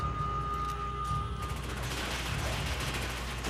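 Enemies fire AK-47 rifles in Resident Evil 5, a dense, continuous clatter of gunshots over low rumbling, loud and sustained, growing busier after the first second and a half.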